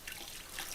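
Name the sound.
liquid pouring and dripping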